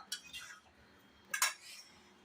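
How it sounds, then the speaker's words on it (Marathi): A utensil stirs a dry spinach and dal vegetable dish in a pan, giving a few faint scraping clinks with one sharper metallic clatter near the end, in a quiet kitchen. "आता ही मी भाजी व्यवस्थित हलवून घेते"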